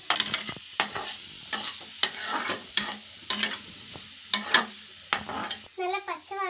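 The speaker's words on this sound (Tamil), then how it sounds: "இப்போ நம்ம வந்து சாப் பண்ணுற ஆனியனை நம்ம போட போகிறோம்." Chopped onions fry in a pan over a slow flame, stirred with a series of distinct scraping strokes against a steady, moderate sizzle.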